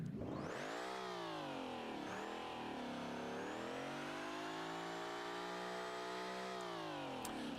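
In the BeamNG driving game, a car engine revs hard at high RPM, a loud buzzing drone that climbs, dips briefly, then holds at a strained high pitch before easing off, continuous and alone.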